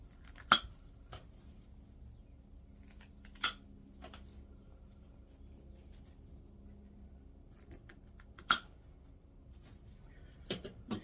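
Pruning shears snip small grapevine pieces for a wreath, a handful of sharp, isolated clicks spaced several seconds apart against a quiet room.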